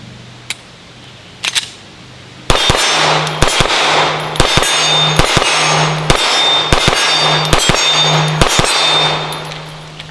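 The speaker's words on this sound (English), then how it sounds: "I'm just gonna shoot it maybe in like double tap, a couple of fast double taps" An H&K VP9 pistol fires in quick pairs of shots outdoors, loud sharp cracks grouped into fast double taps with short pauses between pairs, after a couple of quieter clicks at the start.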